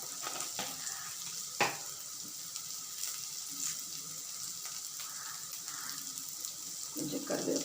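Bitter gourd frying in a pan with a pinch of cumin powder and coriander powder, a steady close sizzle with faint clinks and stirring noises throughout.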